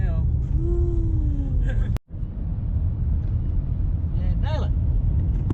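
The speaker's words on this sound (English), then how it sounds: "We're going to just putt up this hill now." Engine of a Toyota Celsior (Lexus LS400) with a faulty ECU, droning steadily as the car climbs a hill under light throttle, with a brief cutout midway and people talking over the rumble.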